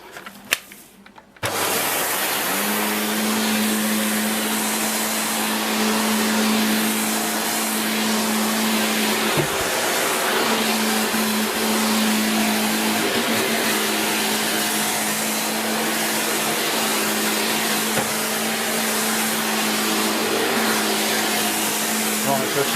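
A Shark Powered Lift Away NV681UKT vacuum cleaner switches on after a brief click and runs with a steady, loud, whining motor drone close by, with a slight dip in pitch partway through.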